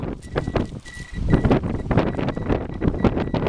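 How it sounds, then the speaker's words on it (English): Gusty wind buffets the microphone in loud rumbling bursts while metal detecting outdoors in the UK, with a faint intermittent beep in the background. "I think it's really windy and hopefully people can hear us."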